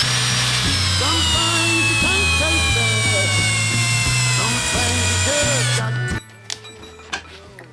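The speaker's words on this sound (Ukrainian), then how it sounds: "давайте візьму товщий глухар, це є 10 на 130 і закручу його по-другому" A DWT cordless screwdriver driving a thick 10x130 lag screw into wood, loud whining motor with pulsing, labouring pitch steps as the screw bites, then it stops abruptly and leaves a few faint clicks and knocks.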